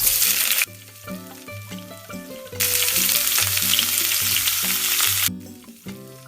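Loud sizzling of spices and chillies frying in hot oil as a tempering for moong masoor dal, with bursts of crackle and a steady hiss, while a melodic instrumental tune plays underneath.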